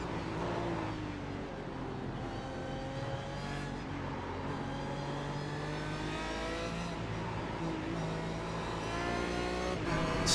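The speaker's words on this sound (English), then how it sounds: "Stepping on the throttle there, trying to get any extra speed I can." Proto GT race car engine accelerating hard at Spa in iRacing, a loud, rising rev climbing through gear shifts, repeated upward pitch sweeps with another car audible nearby and no speech.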